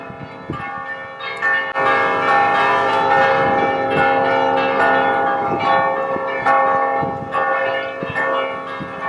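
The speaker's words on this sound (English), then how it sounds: "so the bells are ringing, you can see a guy up there." Loud church bells in Valletta, Malta ring in a steady, overlapping peal, with individual clangs striking repeatedly throughout.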